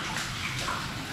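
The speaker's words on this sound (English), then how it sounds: "As it's raining, the water has come here also, guys. Look at this water. This is the rain water." Rainwater flowing inside a large, recently discovered cave in Meghalaya, a soft continuous wash and trickle of running water, fairly quiet and steady for a brief moment.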